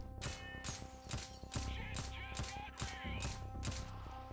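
A sniper rifle in Payday fires at its old rate, about eight fairly quick sharp shots spaced evenly, moderately loud over steady game background noise.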